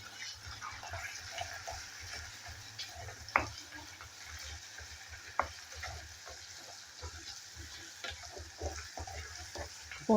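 Garlic and ginger fry in hot oil for a fish curry, a soft continuous sizzle with occasional louder pops and spatters from a spoon stirring the pan, fairly quiet and close.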